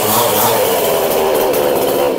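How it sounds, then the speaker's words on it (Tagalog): A chainsaw runs loud and close at a steady high buzz, its engine note holding constant throughout. "Chainsaw pa rin po."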